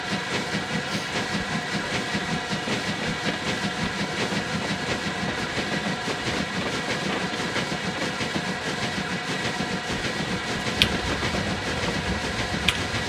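K1 steam locomotive on Scotland's western lines in Train Simulator 2018, running with steady rhythmic rail clatter and engine chuff at moderate level, a couple of sharp clicks near the end, no talking.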